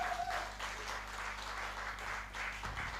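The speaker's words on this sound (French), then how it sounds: "Est-ce qu'on peut applaudir pour notre ambassadeur international?" Audience applause at a lecture, a soft continuous patter of many hands clapping in a hall, moderately distant with a low steady hum beneath.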